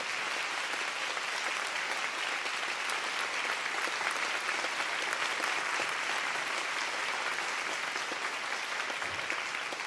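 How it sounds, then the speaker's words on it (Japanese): An audience at a boxing event gives steady, dense applause that runs evenly for about ten seconds, with no cheering and no voices over the clapping. "声を出したい気持ちを抑えて野村さんに温かい拍手をお願いします。"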